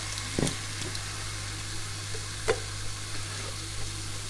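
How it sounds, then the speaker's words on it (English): Canned tomatoes go into a pan of sizzling beef meatballs, giving a faint, even sizzle over a steady low hum, with a couple of soft knocks from the tin and pan. "so now we're going to go with cheap tin of tomatoes. Let's get them in there."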